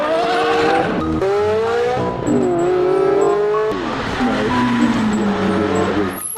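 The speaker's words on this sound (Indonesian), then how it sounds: "lihat, yang ini mobil balap" A toy race car gives off engine-like revving and squealing sounds that rise and fall in pitch over several seconds, loud and close, with no talking.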